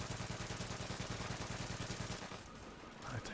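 Rapid automatic gunfire from The Division's Dark Zone rattles in a steady, fast rhythm of evenly spaced shots for over two seconds, then cuts off into quieter game ambience with a faint later thud.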